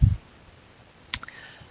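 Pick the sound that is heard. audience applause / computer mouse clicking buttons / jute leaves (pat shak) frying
computer mouse clicking buttons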